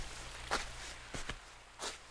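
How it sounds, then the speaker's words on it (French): Footsteps in fine sand on the Breton coast, three or four soft, crunchy steps spaced unevenly over a couple of seconds, close and fairly quiet over a low steady background hum. "Imaginez nos pas dans le sable fin."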